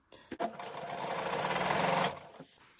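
A sewing machine runs a continuous burst of stitching on quilt block fabric pieces, a steady close mechanical whir lasting under two seconds, framed by a few handling clicks.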